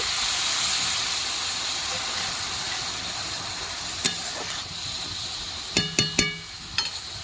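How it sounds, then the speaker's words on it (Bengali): Water splashed into a hot pan of ash gourd and shrimp, a broad hissing sizzle that slowly settles, followed by a few sharp clinks and taps of utensils. "সামান্য একটু জল দিয়ে দিচ্ছি"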